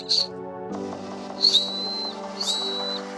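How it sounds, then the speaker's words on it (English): Emergency whistle built into a travel backpack's chest buckle, blown in three short, shrill, close blasts over a steady hum of background music. "Yep, it is a whistle."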